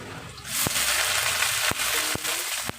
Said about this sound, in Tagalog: Isunod na natin itong puting sibuyas